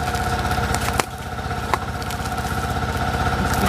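A motorcycle with an upgraded clutch spring and secondary spring idles at around 1,000 RPM, giving a close, steady, even putter with a couple of brief clicks and no voices.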